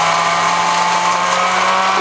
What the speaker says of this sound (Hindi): तब तक हम अपना सौंफ और साबुत धनिया को ग्राइंड कर लेते हैं दरदरा।